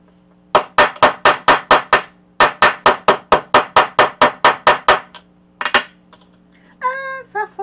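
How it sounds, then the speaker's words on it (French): A small hammer taps close and loud in quick, evenly spaced bursts of about twenty sharp metallic strikes, pausing briefly midway, then a couple of stray taps followed by a short voice. "Ça me prend mon petit marteau quand même."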